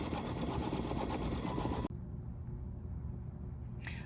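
A home embroidery machine stitching the inside fill area of a small tulip runs steadily with a fast, even mechanical whir, then drops abruptly to a quieter hum before a brief rattle returns at the end.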